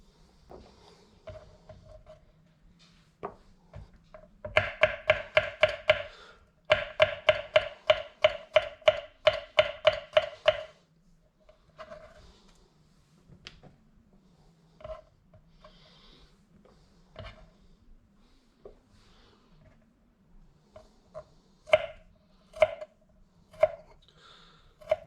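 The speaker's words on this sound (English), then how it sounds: "Cut up a little bit of garlic here." A knife chopping garlic on a board: a fast run of crisp, evenly spaced taps in two bursts, then scattered single knocks, close and fairly loud with no talk.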